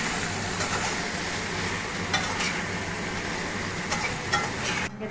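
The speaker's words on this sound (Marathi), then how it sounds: "आता आपण याच्यामध्ये वांगी टाकू। परतून घेऊयात आपण वांगी।" Eggplant being stirred and sautéed in a hot pan, with a steady close sizzle and scraping stir running throughout, ending abruptly.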